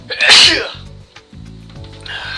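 A single loud, close sneeze bursts out at the start, followed by quieter in-game sounds for the rest of the moment, from a hospital-drama video game set during an investigation of a locked room.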